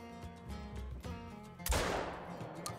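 Shotgun blast in the hunting video game Call of the Wild, a single loud sharp report followed by a decaying rumble, coming after a stretch of sustained tonal sound.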